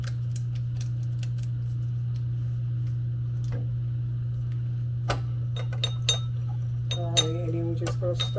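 A spoon clinks against a glass while a mocktail is stirred, with scattered light taps that build into quick rattling strikes near the end, over a steady low hum.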